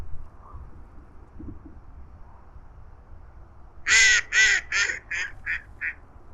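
A duck near a fishing swim gives a run of about six loud, harsh quacks that start fast and then space out, while the background stays quiet and outdoors.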